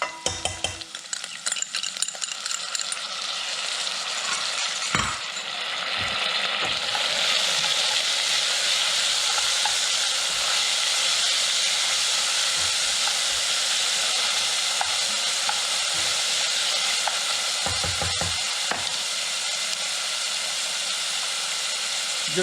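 Onion and garlic frying in a pot for a sweet potato lentil soup, a loud steady sizzle that swells after the first seconds, broken by occasional scrapes and knocks of a spoon stirring.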